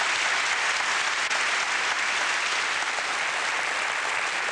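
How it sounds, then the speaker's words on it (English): Audience applauding a concert: dense, even clapping from a large crowd that stays at a steady level from start to finish. "go off and join your other musicians who are ready to give the concert a round of applause"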